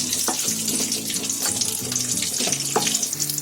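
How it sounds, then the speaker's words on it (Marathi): Cashews and raisins frying in ghee in a kadhai, a steady close hiss and crackle that runs the whole time with no talking. "आता त्याच्यामध्ये 2 चमचे मनुका आणि 2 चमचे काजू हे आपल्याला त्याच्यामध्ये फ्राय करून घ्यायचे आहे."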